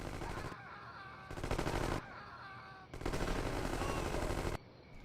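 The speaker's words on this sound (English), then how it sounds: "Oh god, they're still shooting." Automatic gunfire in the gangster video game Gangsters 2: Vendetta, rapid machine-gun bursts in several loud stretches separated by brief quieter gaps, with no talk over it.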